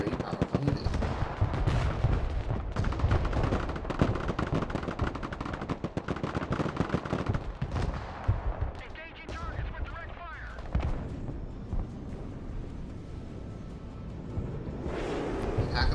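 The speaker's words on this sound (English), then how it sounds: "Another thing we can do is completely battle this zone with the attack guns, because it is a very powerful unit." Attack guns firing in the Broken Arrow strategy video game: loud, dense bursts of rapid gunfire and heavy artillery booms that roll on almost without pause.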